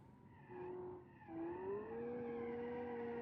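Car tires skidding in a racing video game: a squealing, pitch-shifting screech rises and holds over the engine drone, fairly faint and without talk.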